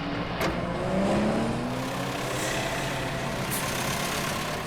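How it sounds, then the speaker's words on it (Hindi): A car engine roars steadily at speed, close and loud, with a rising whine as it accelerates, and the engine and road noise continue without a break. "स्लो चलाओ गाड़ी"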